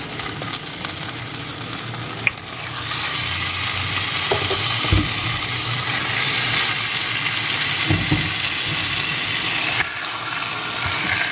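Sauce for Moroccan chicken sizzles steadily in a hot pan, a broad continuous hiss with a few soft stirring knocks, fairly loud and close with no voices.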